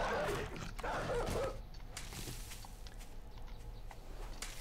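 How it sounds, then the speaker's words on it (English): A Horde Night dog in the video game 7 Days to Die growls and yelps in a short burst of rough snarling noises at the start, then fades into low ambient game noise. "It's a Horde Night dog."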